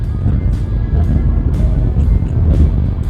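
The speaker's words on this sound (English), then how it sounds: "Close that sunroof, try to eliminate all the wind noise from the outside." A 1986 Lincoln LSC coupe with the 5.0-liter HO engine driving on the road, a steady loud low rumble of engine, tires and wind noise buffeting the microphone, with faint periodic whooshes.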